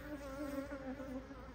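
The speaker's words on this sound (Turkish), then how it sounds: "Arı çok canlı, kalabalık" Honeybees crowding the entrance of a busy hive give a close, steady buzzing drone with wavering tones, alone and fairly quiet.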